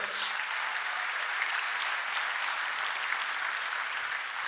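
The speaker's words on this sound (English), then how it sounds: "Give yourselves a round of applause" Large conference audience of about 1,600 people applauding, a dense, steady wash of clapping that stays loud and even throughout, with no speech over it.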